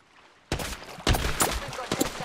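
Gunfire in the Apex Legends battle-royale game bursts in after a quiet start, several loud overlapping volleys of shots in quick succession.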